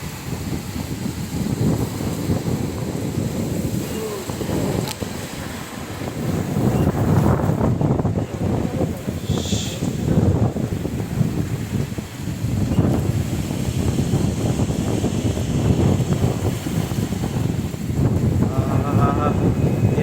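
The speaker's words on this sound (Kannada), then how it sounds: "ಗಾಳಿ ಸಹಿತ ಮಳೆ" A windstorm with heavy rain in Yadgir: strong, steady wind roars and buffets the microphone throughout, with a broad rushing wash of rain; no clear talk.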